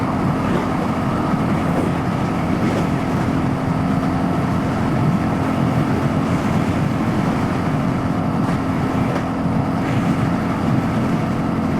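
A Royal Enfield Hunter 350 motorcycle fitted with a Coffman's exhaust cruises at freeway speed, its engine drone a constant steady roar blended with heavy wind and road rush, loud and unbroken.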